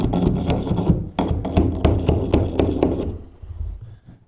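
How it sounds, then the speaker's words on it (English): A scraper or bolster tucks carpet between the gripper and the skirting, a quick run of close, dull knocks and scrapes in uneven rhythm that trails off after about three seconds. "I'm going to show you how to tuck it in between the gripper and the skirting with a standard scraper or bolster"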